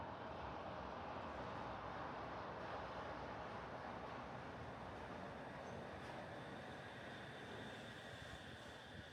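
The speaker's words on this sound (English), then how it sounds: "The train glides down the hill, reflecting in the apartment windows" A Shonan Monorail train glides down a hill through a residential neighborhood near Kamakura, a faint, steady, even rushing hum that holds for several seconds with no voices.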